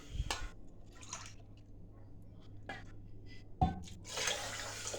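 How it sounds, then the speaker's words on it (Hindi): Water pours into a pan of sugar as a Hindi cook starts a syrup for sonth halwa, heard as close splashes and trickling with a faint background hum. "1 प्याली चीनी है तो 2 प्याली पानी डालेंगे।"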